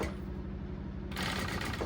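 A sewing machine with a zipper foot stitches fabric piping onto a pouch, a steady close mechanical whirr with a rapid regular needle rhythm that grows brighter and busier partway through.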